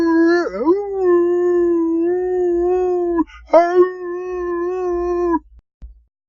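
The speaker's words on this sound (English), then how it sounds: "the dogs were sort of crying, and they were making a noise like" Dalmatians howl in long, sustained tones with a wavering, crying quality, one drawn-out howl breaking off and then resuming, close and fairly loud.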